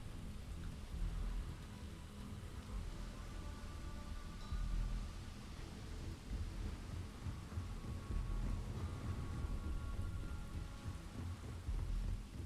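Thunderstorm on the planet Neon in the game Starfield, steady rain hiss with low rolling thunder rumbles throughout, fairly faint and without voices.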